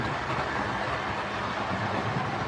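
A model GWR Churchward locomotive runs steadily around its track, a continuous close rolling rumble with faint rail clatter throughout, no voices.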